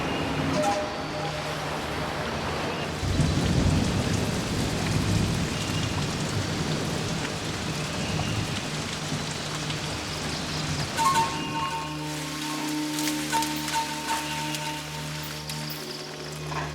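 A heavy tropical downpour in Indonesia hisses steadily on surfaces while deep thunder rumbles early on, then the rain thins toward a lighter patter with scattered drips near the end.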